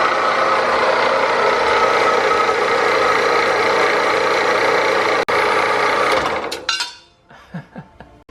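A power cutter slices a 7/8-inch piece off, its engine screaming loud and steady for about six seconds before the revs drop and it spins down, leaving a few faint clunks.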